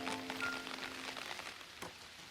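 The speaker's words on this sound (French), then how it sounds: "elle fut rassurée de voir que Miffy n'était pas trempée par la pluie" Steady cartoon rainfall patters evenly on a surface in a children's animated scene, a continuous soft hiss of drops with one brighter splash-like tick near the end, heard alone without voices.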